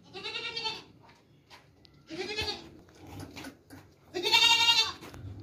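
A hefty young male goat of a fine breed bleats three times, loud and close, with short pauses between the calls and the last cry the strongest.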